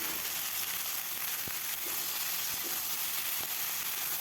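Malabar spinach frying in a pan with salt and turmeric gives a steady close hiss, with a few faint scrapes of stirring and no voices.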